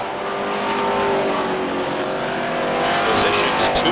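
Race cars at Beech Ridge Motor Speedway in 1991 roar past in a bunched, bumper-to-bumper pack, their engines a loud, continuous drone that swells slightly near the end.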